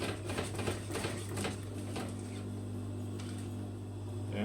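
A sewing machine runs a line of top stitching on T-shirt fabric, giving a quick mechanical patter of needle strokes over a low motor hum, close up and fairly quiet.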